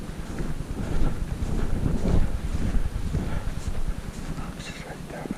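Wind gusts buffet the microphone outdoors during a hunt, a steady low rumbling roar with rising and falling gusts throughout.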